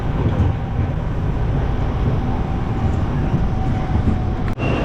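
Bangkok metro train in motion, a continuous loud low rumble and rushing hum heard from inside the carriage, steady throughout with a brief thump near the end.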